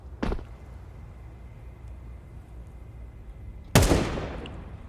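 Gunfire in a professional Counter-Strike match at IEM Chengdu 2025. Two sharp, isolated shots crack about three and a half seconds apart over a low background rumble, and the second is louder.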